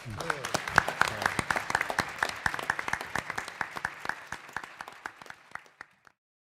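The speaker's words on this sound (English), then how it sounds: "Let's give him a big round of applause." A small audience claps for several seconds, the individual hand claps distinct and fairly close, starting lively, then thinning and trailing off before stopping abruptly into silence.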